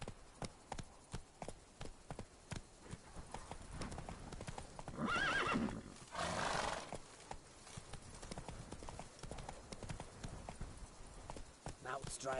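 Roach, a horse in The Witcher 3 video game, trots with steady rhythmic hoof clip-clops close by. A burst of louder noise and a whinny come midway, and voices talk over part of it.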